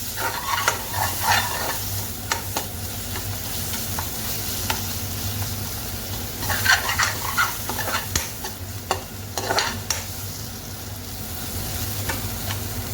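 Mashed vegetables with salt, turmeric and roasted cumin powder being dry-fried in a pan for a bharta, heard as continuous close scraping and stirring over a low sizzle, with sharp spatula clicks throughout.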